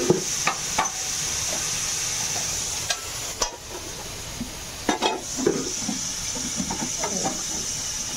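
Spices with turmeric stir-fried in a pan for an egg and paneer dish, a steady sizzle with a hissing bed broken by scattered scraping and stirring knocks, no talking.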